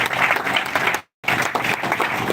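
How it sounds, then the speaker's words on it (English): Loud, dense applause from a crowd at a funeral, briefly cutting out for a moment before resuming just as strongly. "Please, a round of applause."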